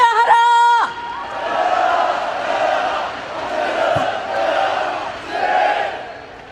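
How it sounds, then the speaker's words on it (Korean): A large rally of Korean union workers at the 2016 national workers' rally, the crowd roaring chant after chant in loud waves, following a brief amplified voice at the start. "박근혜 정권 퇴진의 함성을 더 높이 외치겠습니다"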